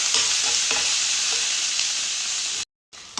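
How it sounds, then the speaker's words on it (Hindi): A tablespoon each of garlic and ginger fry in a pan for a cabbage pancake, giving a strong, even hiss of sizzling oil with faint stirring knocks. It cuts to silence briefly near the end. "अब मैं 1 टेबल स्पून भरकर इसके अंदर लहसुन और 1 टेबल स्पून भरकर इसके अंदर अदरक का डाल रही हूँ और इसको भी हम थोड़ा सा फ्राई करेंगे"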